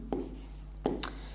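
Marker or chalk strokes on a classroom board during a biology lesson, three short scratchy bursts separated by pauses over a steady low hum, close and fairly clear.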